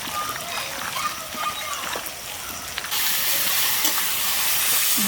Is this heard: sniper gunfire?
no